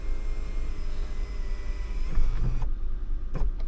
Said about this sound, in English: Let's get that sunroof going.